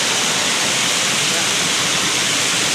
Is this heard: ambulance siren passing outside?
no